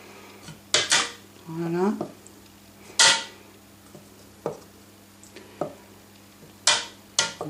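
Batter for a deep fried Mars bar is stirred in a bowl, with sharp, irregular clinks and scrapes of a utensil against the dish, close up, and a person speaking briefly between them.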